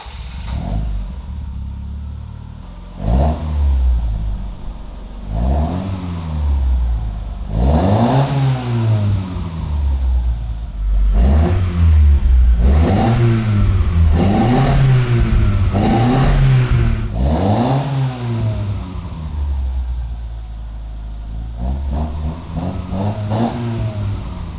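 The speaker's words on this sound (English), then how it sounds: "Let's go ahead and listen to the Fujitsubo now" Toyota AE86 with a Fujitsubo exhaust revving repeatedly, each blip rising and falling in a clear rhythmic series, loud and close with no talking.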